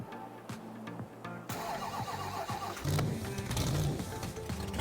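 A monster truck engine in Farming Simulator 22 cranks and roars to life, then idles with a loud, rumbling growl over a steady low hum.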